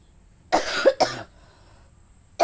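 A female schoolteacher coughs in a quiet room, first a close, harsh burst of two rough coughs, then after a pause a single cough that cuts off short.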